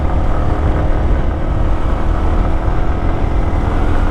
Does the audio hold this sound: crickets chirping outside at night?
no